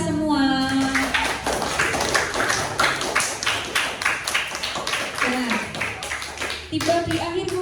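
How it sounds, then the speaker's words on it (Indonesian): A third-grade class of children in an Indonesian primary school claps together in a fast, rhythmic patterned applause, with children's voices chanting over the claps. "Tepuk tangan untuk kita semua."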